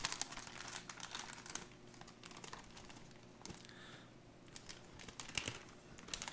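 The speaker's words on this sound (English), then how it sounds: "So there is a tear notch right here. I'm trying to open this up without cutting the inner bag." Crinkling and tearing of a 2012 U.S. MRE pouch made by Wornick, Menu 14 Ratatouille, ripped open at its tear notch by hand, a series of close, sharp crackly bursts and rustles with short pauses, no talking.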